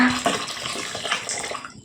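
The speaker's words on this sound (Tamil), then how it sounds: "250 கிராம் கப்பில் 1 கப் நான் வினிகர் எடுத்திருக்கேன். இப்போ சேர்த்து கொடுத்துக்கோங்க." A cup of vinegar is poured into a pot of boiling salt water for a pickling brine, giving a short, close, splashing trickle of liquid that fades out at the end.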